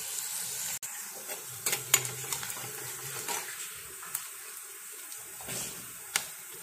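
Chopped onion frying in a pan for fish biryani, a soft continuous sizzle with a few faint clinks and stirring scrapes, close and fairly quiet.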